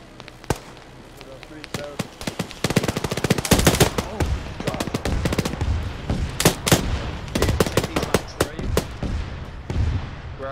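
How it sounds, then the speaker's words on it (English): Rapid gunfire rains down from the air in a military video game operation, with dense irregular bursts of sharp shots, some loud and close, others quicker and rattling, under occasional voices. "We're being shot from the air?"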